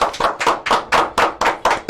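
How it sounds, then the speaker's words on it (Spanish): Studio audience applause welcoming a pastor as a radio show guest, a few people clapping in a quick, fairly regular rhythm, close and loud, with no talk over it. "Recibámoslo con un aplauso"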